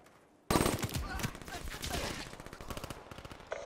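Rapid automatic gunfire in Black Ops 3 during a competitive Hardpoint match, loud bursts of rattling shots starting abruptly and continuing steadily, with a faint voice under the shooting.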